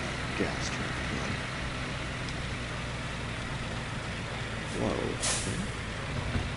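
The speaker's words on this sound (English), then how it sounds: "It's a water gas truck again." Truck engine drone in Hard Truck 18 Wheels of Steel, a steady low rumble with a sharp hissing release of air brakes late on and a few faint engine swells.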